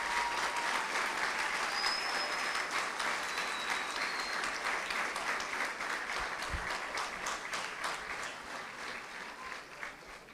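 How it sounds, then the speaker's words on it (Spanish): Sustained audience applause at a school project presentation event, steady broadband clapping from a crowd lasting throughout and tapering slightly toward the end, with no talk over it. "querría pedirle, aunque estén en ausencia, un fuerte aplauso para ellos"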